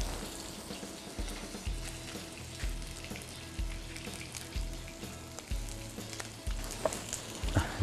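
Flour-dusted fish sizzles and crackles as it fries in a hot pan, a steady loud frying hiss with low thumping knocks and brief clatters, no voices.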